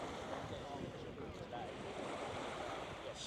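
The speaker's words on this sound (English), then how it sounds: "So there's a main Padang Padang beach area." Surf washes continuously at Padang Padang beach in Uluwatu, Bali, a broad steady roar of waves mixed with wind buffeting the microphone, with no clear talk.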